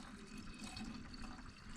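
Water pours steadily into an Aston Martin's cooling system to top it up, a faint continuous splashing rush with no talk.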